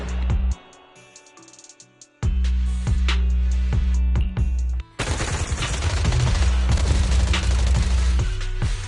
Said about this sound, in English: Gunfire? This pattern. Suppressive marching fire.